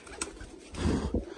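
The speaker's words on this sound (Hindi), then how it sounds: "ब्रीडर कबूतर है, बच्चे पाल रहा है ये" A breeder pigeon of the jira type, raising chicks, gives a low soft coo close by, with faint rustling around it and one brief sharper sound.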